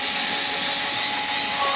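A high-pitched dental drill whirs continuously at close range, its shrill tone wavering slightly, with no talking.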